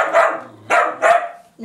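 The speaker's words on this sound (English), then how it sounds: "Stop barking!" A dog barks close by, three loud sharp barks with short gaps between them, and a fourth begins at the very end.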